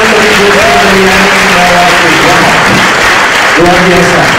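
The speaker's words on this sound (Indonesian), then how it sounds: "Tepuk tangan untuk Ibu" Audience applause at a public lecture in Indonesia, a steady loud wash of clapping throughout with voices talking over it.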